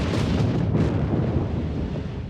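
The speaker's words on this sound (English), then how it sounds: "capture the wrath of Anak Krakatoa on film as it launched a lethal explosion" The 2018 explosion of the Anak Krakatoa volcano roars as a loud, continuous deep rumble, dense and sustained from start to finish with no quiet breaks.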